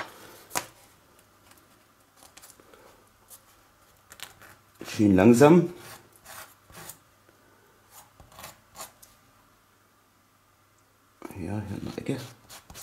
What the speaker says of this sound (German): Aber hier sind ja noch ein paar Nasen dran und die werde ich jetzt schleifen.